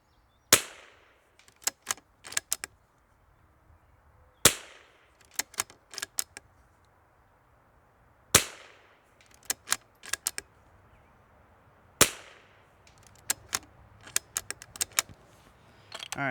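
L3I Stinger rifle fired at a 150-yard range: four widely spaced sharp shots, each followed by a cluster of clicks and clacks from cycling and handling, fairly close with quiet gaps between.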